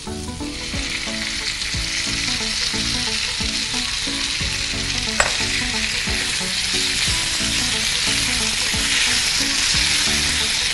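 Chilli paste hits a hot pan while paneer chilli is being made, giving a loud, continuous close-up sizzle with an even crackle and one sharp click partway through.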